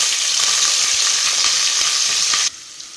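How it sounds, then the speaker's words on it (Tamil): Onion and green chillies fry in ghee with a loud, dense, continuous sizzle heard close up, with faint stirring taps underneath, before the hiss drops sharply in level near the end. "வெங்காயம் நல்லா வதங்கிருச்சு"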